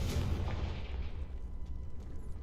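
A Confringo fire spell detonates in Hogwarts Legacy, a single booming blast with a bright crack at the start that decays into a low rumbling tail over about two seconds.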